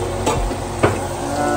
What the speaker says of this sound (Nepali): यहाँ चाहिँ मासु पाक्दैछ